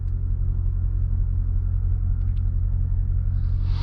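A 2024 Jaguar F-Pace SVR engine gives a deep, steady rumble, loud and continuous throughout, with a faint rise in tone at the very end and no talk.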